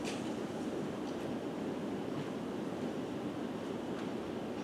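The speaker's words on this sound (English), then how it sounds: "Sounds like it's raining. Sounds like it's pouring." Heavy rain pours in a continuous, even roaring wash, heard indoors during a town board workshop meeting, with no talk over it.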